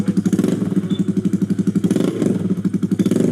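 Motorcycle engine revving up close, a steady pulsing throb of rapid firing beats that swells and eases slightly over a few seconds, loud and alone with no talk.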